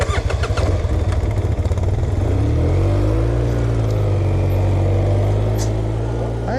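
A Suzuki King Quad 750 ATV engine runs close and loud, with a rapid idling chug that rises into a steady rev with climbing pitch, heard alone without talk.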